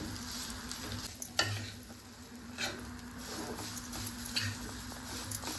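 Grated coconut with poppy and sesame seeds being stirred and fried in ghee over medium heat, a soft, continuous sizzle with occasional scraping stirs, faint and close.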